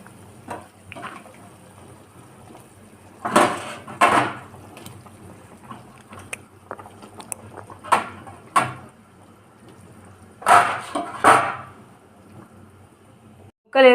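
Pieces of fish are dropped into a simmering tamarind fish curry pot in a home kitchen. Several soft wet plops and clatters come in scattered clusters over a quiet background.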